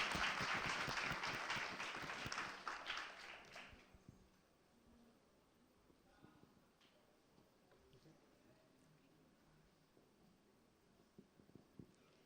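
An audience at a launch event gives a burst of loud, dense applause that fades out after a few seconds, followed by quiet room noise with a few scattered late claps.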